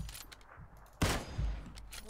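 A single sharp gunshot from the battle royale game PUBG cracks out loud and near, followed by a smaller impact-like burst and low rumble, with no talk over it.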